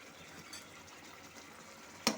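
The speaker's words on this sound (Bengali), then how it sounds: "গ্রেভিটা ভালো মতো ফুটে গেছে" Egg curry gravy bubbles in a pan at a soft, steady simmer, close and quiet, with a single sharp clink near the end.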